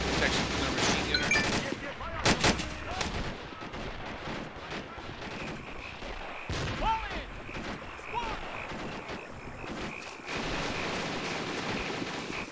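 Machine gun fire rattles in the real-time strategy game Men of War 2, with bursts of gunshots and distant booms in a busy battle mix, while people talk over the action.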